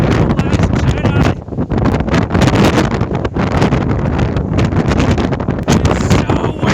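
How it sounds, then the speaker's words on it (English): Strong wind buffets the microphone on an exposed sea cliff in Ireland, a loud, continuous roar with gusting surges that never lets up. "It's so windy."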